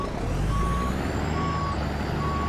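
A CAT CT660 truck in American Truck Simulator sounds its reversing alarm, a loud repeating electronic beep at an even pace over the idling engine rumble, with no voices.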